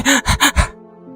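Heavy panting from a man, four quick, loud, breathy gasps in rapid succession, close to the microphone, then trailing off into a faint hum.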